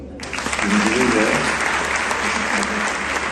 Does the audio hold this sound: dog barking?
no